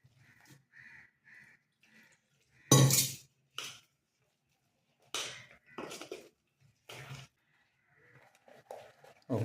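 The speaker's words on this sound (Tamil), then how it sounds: "அதை நம்ம வந்து கரைச்சி காமிக்கிறேன்" Millet adai dosa batter is mixed with water in a bowl, heard as close, irregular scraping and clinking strokes of a utensil against the bowl, with quiet gaps between them.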